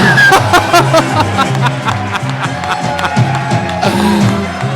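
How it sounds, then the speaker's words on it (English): Live comedy show audience at Kill Tony cheering and shouting loudly over a steady crowd roar with a beat underneath, near and sustained throughout. "The crowd goes wild."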